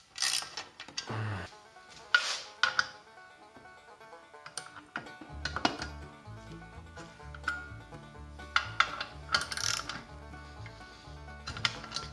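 Ratchet working loose the 6 mm hex bolts on a Triumph Speed Triple motorcycle exhaust, with bursts of close mechanical clicking and rattling alongside metallic handling noises, no talking.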